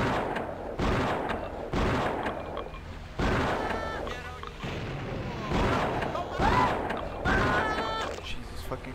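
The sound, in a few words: gunfire from bullet weapons in the video game Blood: Fresh Supply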